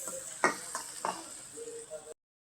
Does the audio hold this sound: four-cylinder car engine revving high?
no